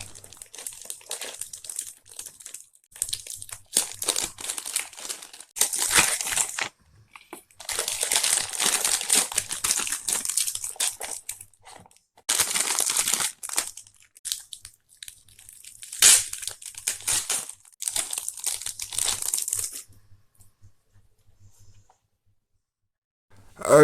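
Dragon Ball Super card game booster packs are torn open and handled, with loud foil crinkling and crumpling coming in close bursts separated by brief quiet gaps.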